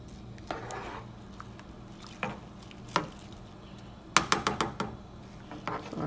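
Rice with green peas and garlic salt being stirred in a cooking pot, giving soft wet squishing and scraping with a few sharp clinks of the utensil against the pot, close and quiet, clustered near the end.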